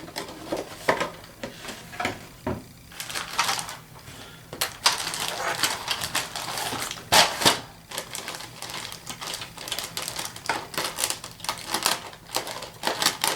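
Crinkling and rustling of a plastic bag of model kit parts for an LCVP landing craft being opened and handled, with irregular crisp bursts and rattles running close up throughout, no talk.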